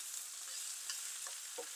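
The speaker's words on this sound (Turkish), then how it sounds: "Sürekli karıştırarak, kavurarak nefis bir yemek hazırlıyoruz." Food sautéing in a few spoonfuls of olive oil in an open pot, with a steady soft sizzle and a few brief stirring scrapes, heard alone without talk.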